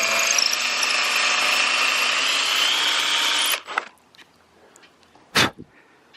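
Power drill enlarging a hole in a 7x12 cargo trailer, a loud steady high whine lasting over three seconds, then stopping, followed by faint scrapes and one short sharp knock.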